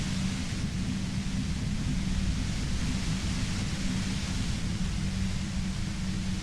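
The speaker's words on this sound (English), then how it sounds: "You hear through the white noise. It's especially bad suddenly." Static hisses from a radio in the detective game Disco Elysium, a dense, unbroken wash of noise with a low rumbling undertone that holds steady and loud throughout, with no talk over it.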